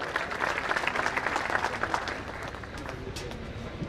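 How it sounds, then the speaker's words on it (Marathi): Audience at a coronation ceremony event in Pune breaking into strong, sustained applause, dense clapping that swells and then gradually thins out, with some voices mixed in. "त्यांच्यासाठी एकदा जोरदार टाळ्या"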